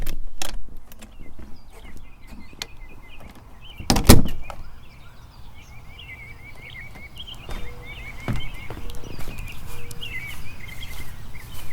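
A front door of a home opens and closes before a walk in New Zealand, giving one sharp, loud knock-and-latch burst midway, with lighter clicks around it over faint outdoor ambience and distant birds.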